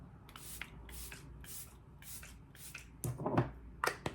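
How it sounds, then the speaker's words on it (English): Several short hissing bursts of makeup setting spray misted toward the face in quick vertical passes, close and soft, followed by a brief rustle near the end. "So we're just gonna do a couple good vertical sprays, holding it away from our face."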